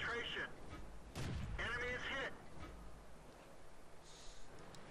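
Matilda tank gun in World of Tanks firing at a Hetzer, two or three heavy booming shots spaced about a second apart, with talk throughout.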